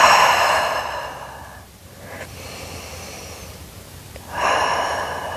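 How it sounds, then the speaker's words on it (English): Slow, deep breaths during a Pilates stretch, with long airy inhales and exhales rising and fading in a steady cycle; no one speaks. "You have 5 deep breaths here."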